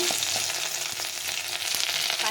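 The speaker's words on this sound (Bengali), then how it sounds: "আদাটাকে একটু ভেজে নিতে হবে" Ginger pieces fry in hot oil alongside dried red chilli and bay leaf as a tempering for dal, giving a steady, close sizzle that holds throughout with a few soft stirring clicks and no talking.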